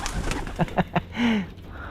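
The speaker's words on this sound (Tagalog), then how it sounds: "ito yung ating mga kalapate" Racing pigeons coo close by, a short series of soft rhythmic pulses followed by a longer rolling coo, with faint background noise.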